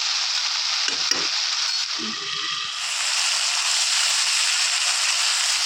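Drumsticks fry with salt in a hot pan, a loud, bright continuous crackling hiss, with a few clanks of stirring near the start.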